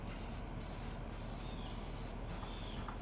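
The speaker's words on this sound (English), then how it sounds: "I also like to get a few sprays going to see how this is actually going to spray." Spray paint hisses from a can in short repeated bursts, several quick sprays separated by brief pauses.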